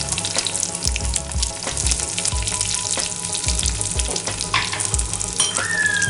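Dried red chillies crackle and sizzle in hot oil for a dal tempering, a loud, busy frying hiss with repeated low thuds of the pan, and a thin whistling tone near the end.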